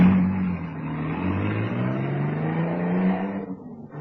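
A car roars away in a radio drama scene, a loud steady engine drone with rising pitch as it accelerates, then fading slightly at the end.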